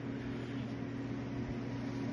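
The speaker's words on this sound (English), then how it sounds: "I have the exhaust fan going because I smoked myself out" Exhaust fan running in a garage, a low steady droning hum with a constant tonal whir, continuous and unchanging with no other sounds.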